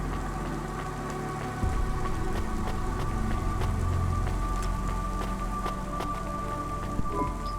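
Steady rain falls on a city in the video game Cloudpunk, with a constant close hiss and scattered patters throughout and no voices.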